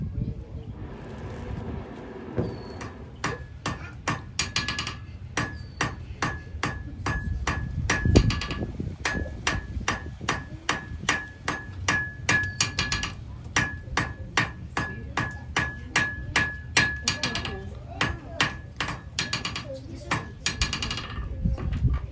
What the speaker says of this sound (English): I'm going to hammer this out to a point.